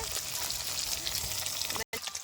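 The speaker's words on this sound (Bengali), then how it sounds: "মাছগুলো ভাজা হয়ে গেছে এবার নামিয়ে নেবো" Tilapia fish fry in hot oil with a close, continuous crackling sizzle that fills the short stretch, broken by a brief dropout near the end.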